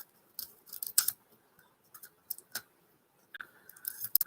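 Scissors snip through ribbon while a holiday card is being made, a few short, crisp, close cuts separated by quiet pauses, with light handling clicks.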